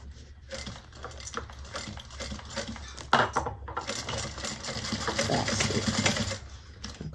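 A sewing machine runs steadily while stitching a fabric bag, curving a seam around a corner and attaching piping to the front panel. The motor drones close and continuous, with short pauses and small clicking handling noises.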